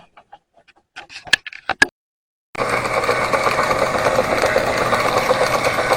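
Live steam engine aboard a river launch, a steady continuous chuffing and mechanical rattle that starts suddenly after a few quiet knocks and clicks, then runs on evenly and close.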